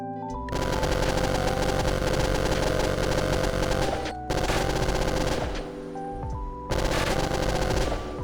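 Automatic turret guns in the indie FPS game Omnipresence fire in three loud, rapid, sustained bursts, separated by brief pauses, with no talking.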